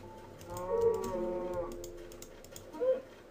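A Minecraft cow lets out a drawn-out moo followed by a shorter second moo, with faint keyboard clicks underneath.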